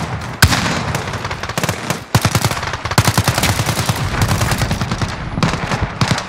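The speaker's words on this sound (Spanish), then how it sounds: "¡Me disparan!" Rapid automatic gunfire in Call of Duty: Modern Warfare online play, loud, close bursts of repeated shots with brief pauses, continuing almost throughout with no talk.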